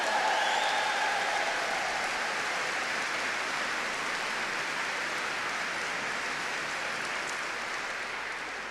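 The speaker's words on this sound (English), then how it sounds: "And now a big cheer, please, for our winners, Bemelmans and Masur." A tennis crowd at a finals-day trophy presentation in Glasgow breaks into sustained applause and cheering for the winning pair, a dense, even roar of clapping that fades slightly toward the end.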